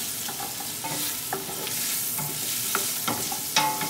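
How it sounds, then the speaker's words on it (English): Chopped vegetables for a Genovese sauce sizzle and fry in a pan, with a steady bubbling hiss and occasional scraping stirs from a spoon, fairly close and with no talking. "You caramelize the vegetables."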